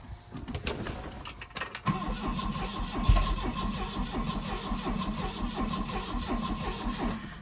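An abandoned Volvo 240 with MAPP gas fed down the intake cranks with a rapid rhythmic churn after a few clicks, then catches briefly and sputters into a rough, uneven running note. The sound is moderately close, with no talking.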